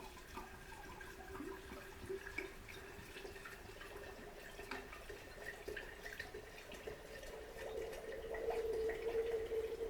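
A soft, continuous trickle of vodka being poured slowly into a jar of wild rose, quiet and steady throughout, growing slightly fuller near the end.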